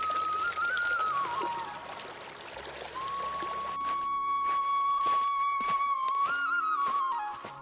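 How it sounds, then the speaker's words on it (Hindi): River water pours into a lota pot with a continuous trickling, gurgling stream, joined by a high whistling tone, with no speech. "अपना लोटा पानी से भरता है"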